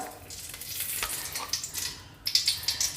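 Ghee sizzles and crackles in a pan while cooking pazham pradhaman, the Kerala banana dessert, with stirring scrapes in between and sharper bright spitting bursts near the end, all close and fairly loud.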